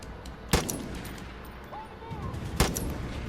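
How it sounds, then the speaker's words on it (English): Two loud, sharp sniper rifle shots ring out in the video game Far Cry 5, about two seconds apart, over a busy bed of in-game ambience. "And now I have a sniper."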